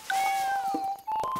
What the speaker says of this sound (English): So let's have a look at the little cat.